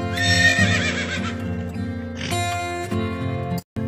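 A horse neighs loudly with a long whinny, followed by clip-clopping hooves, set against the bright music of a children's phonics song.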